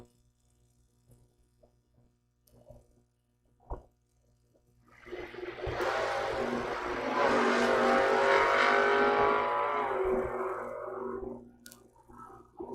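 A drag racing car launches hard down the strip at Mid America Dragway, a loud sustained engine roar building after a few faint knocks and holding steady at close range for several seconds before easing off.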